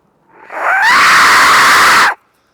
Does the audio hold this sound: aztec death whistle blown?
yes